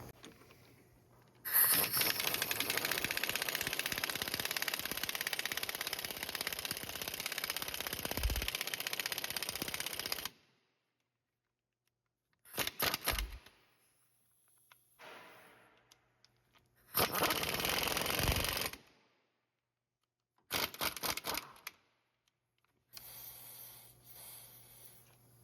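A thread tap is run by hand through the tapered tie rod hole on a 2013 Ford F-150, giving bursts of scraping, grinding metal cutting separated by short pauses, close and fairly loud, with no talking.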